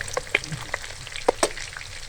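Raw minced-meat tikki patties frying in a pan over medium-low flame, with soft crackling sizzle and a few sharp pops and spatters scattered through a brief, fairly quiet stretch.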